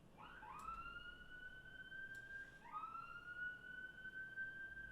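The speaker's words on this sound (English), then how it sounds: "Ambulance." An ambulance siren passes outside, two long rising-then-steady wails sounding at moderate distance, muffled through walls over a low room hum with no talk.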